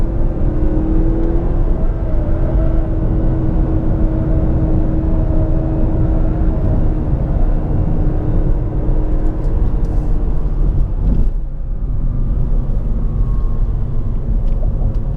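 A 2017/2018 Mazda 3 hatchback with a 184-horsepower engine driven hard through a corner, heard from inside as a loud, steady engine drone and road rumble with a steady engine tone throughout.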